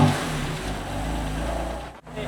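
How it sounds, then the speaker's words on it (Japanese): A BMW M4 engine runs with a steady low mechanical drone and a strong low-end hum, holding even before a momentary dip near the end, then resuming. "じゃあエンジンスタートします"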